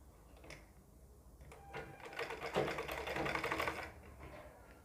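A sewing machine stitches a sleeve seam on a ladies' suit, its needle running in a fast, even rattle that builds up midway and then trails off; quiet and close, with no voices.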